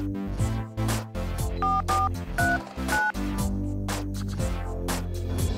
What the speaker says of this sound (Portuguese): Já sei! Vou ligar pro Miguel